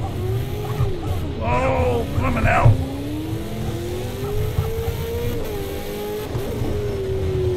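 A V8 race car engine in a racing video game, revving and droning with rising and falling pitch and a brief squeal, heard under excited, close commentary from a player.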